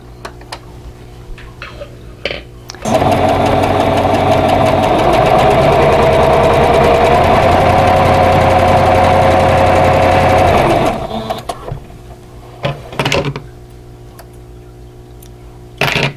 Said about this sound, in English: So now I can sew on this line.